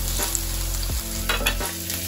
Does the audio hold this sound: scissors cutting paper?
no